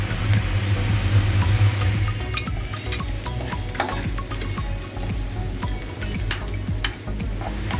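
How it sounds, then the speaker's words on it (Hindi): Ginger-garlic paste sizzles in hot oil with lightly browned onions in a pan for bread chicken patties, with a loud, steady frying hiss and scraping stirring strokes up close, and no speech. "अब हम इसमें 1 चम्मच लहसुन अदरक डालेंगे।"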